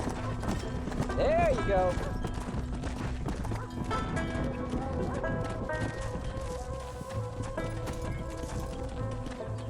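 Horse hooves clip-clop steadily through an in-game ranch scene in Red Dead Redemption as horses are led into a pen, with a voice speaking briefly over the hoofbeats and background music.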